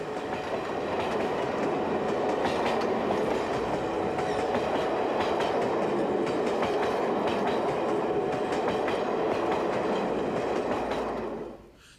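Chinese JS class steam locomotive hauling a local stopping passenger train near Baotou, a loud steady rumble of rolling carriages with clickety-clack wheel rhythm throughout, fading away at the end.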